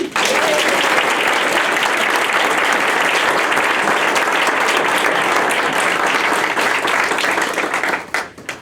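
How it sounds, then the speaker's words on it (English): Sustained, dense applause from a large audience at a school board meeting awards presentation, loud and steady for about eight seconds before tapering off at the end. "One more round of applause."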